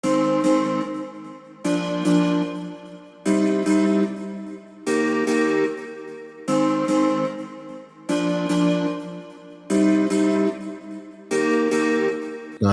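A plucked strings preset from the Studio Strings plucked bank in live accompaniment mode, playing a steady repeating pattern of short bowed-pluck chords in even groups, full and close with no voices.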